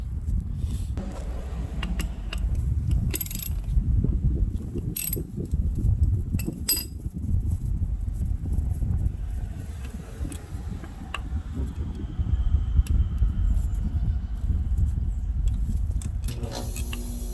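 A 17 mm wrench works an oil line fitting loose on a Dodge Dart/Fiat 1.4L turbo engine, giving scattered metallic clicks and clanks over a low mechanical rumble, close by with no voices.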